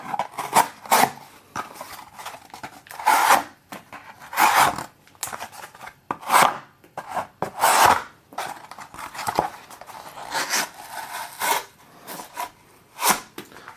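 A Quartermaster QTR4 knife slices through thick cardboard in a series of short, irregular rasping cuts, close and crisp, with brief quiet pauses between strokes.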